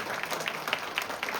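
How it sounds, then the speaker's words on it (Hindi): Audience applause at a patriotic poetry recital, a steady spread of scattered clapping from a crowd, moderately faint and continuous without talk. "जरा हाथ उठाकर तालियां बजाओ जरा।"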